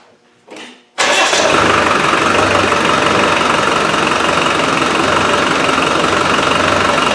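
A Land Rover 300Tdi diesel engine with air in its fuel fires up after a brief quiet noise and settles into a loud, steady, close running rumble that continues to the end, with no speech.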